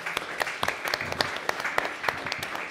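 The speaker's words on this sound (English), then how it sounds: "We're going to give him a round of applause." Audience applause at a performance release event: scattered hand claps from a modest crowd, uneven and fairly close, sounding for a few seconds.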